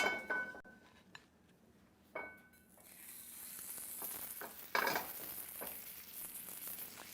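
A pork chop sears in an oiled pan over medium-high heat, giving a bright, hissing sizzle that swells and fades, broken by a few clinks of a pan and utensil nearby.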